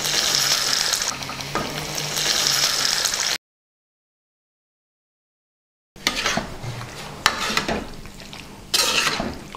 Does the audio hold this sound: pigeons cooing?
no